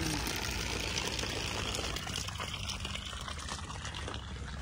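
Water running from a pipe during plumbing and fitting work in a village mosque, a steady broadband rush and trickle that holds throughout with no speech over it.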